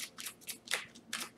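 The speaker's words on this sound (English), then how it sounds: "I'm going to shuffle one more time" Quick riffling of tarot cards being shuffled, three or four soft papery bursts in a fast rhythm, close up with no talking.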